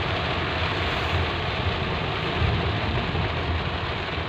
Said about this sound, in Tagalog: Grabe din palang ulan dito sa Kawak.